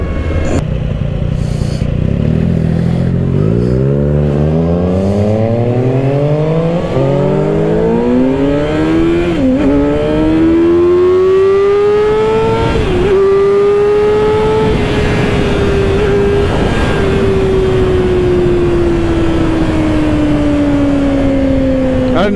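A 2024 Kawasaki Ninja ZX-6R motorcycle revs hard as its throttle opens, its loud, close engine note climbing steeply through several gears, each shift briefly dropping the pitch before it rises again, then holding a high, steady whine.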